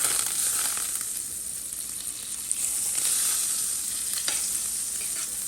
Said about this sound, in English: we're going to add a little butter to the pan here